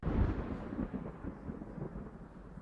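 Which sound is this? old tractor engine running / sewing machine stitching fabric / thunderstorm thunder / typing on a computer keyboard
thunderstorm thunder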